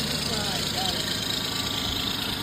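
A car engine with an exhaust leak and possible rod knock idles with a continuous, rapid low rhythmic puffing and rumble at close range.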